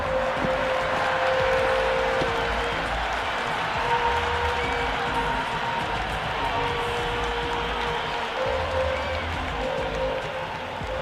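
An IPL cricket crowd at the Rajasthan Royals versus Gujarat Titans match roars and claps after a six, a sustained, far-off wash of cheering with a commentator talking over it.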